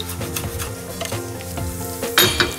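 Onions fry and sizzle in a pan as they are stirred, with a steady hiss broken by scraping strokes and a couple of louder clatters near the end, close by and with no one talking.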